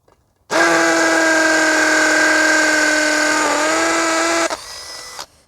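A Makita CX205RB 18V sub-compact drill runs at high speed, a loud steady whine starting abruptly, holding for about four seconds, then dropping and winding down to a stop, close and alone.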